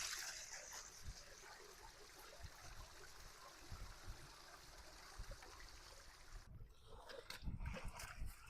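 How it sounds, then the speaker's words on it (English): Water dumped into a gold rocker box during prospecting in Wisconsin, a quiet continuous rush and trickle of water splashing through the box, faint and steady with a few louder sloshes near the end. "We're gonna dump water into the rocker box to help us clean everything out"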